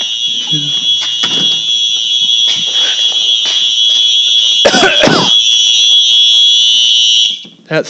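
Simplex fire alarm sounding during a test, a loud sustained high tone running nearly the whole time before cutting off, with clunks and door-like thumps over it and brief talking.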